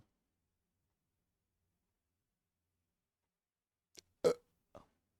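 A person burps out loud during a Euro Truck Simulator 2 session: three short, close bursts near the end after a long silence, the middle one loudest.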